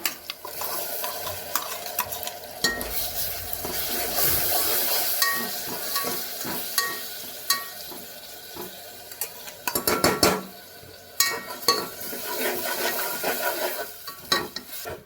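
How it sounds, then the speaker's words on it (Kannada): A spoon stirs ground tomato paste in a frying pan, scraping and clinking against the metal over a soft sizzle, with irregular louder knocks and scrapes throughout and no talking. "ನಾನಿಲ್ಲಿ 2 ಟೊಮೊಟೊ ರುಬ್ಕೊಂಡಿದ್ದೆ, ಅದನ್ನು ಹಾಕೋತಾ ಇದ್ದೀನಿ."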